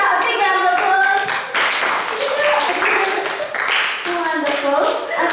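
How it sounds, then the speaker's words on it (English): Children clap for a girl named Jessica at a primary school bubble show, with close, busy hand clapping mixed with children's voices and excited chatter throughout. "Let's give Jessica a big round of applause"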